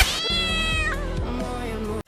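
A cat lets out a drawn-out, wavering meow that falls in pitch, clear and close, ending abruptly after about two seconds.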